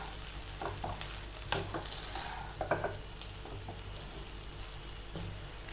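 Capsicum rice with lemon juice is stirred in a frying pan: a steady low sizzle under a few scraping, clinking strokes of a spoon against the pan, close and moderately quiet, with no voices.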